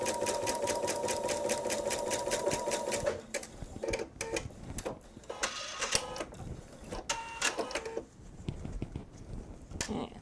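A sewing machine stitches jelly roll quilt strips in a fast, even run of rapid needle strokes, then stops and starts in shorter bursts mixed with handling clicks, while a voice talks faintly at times.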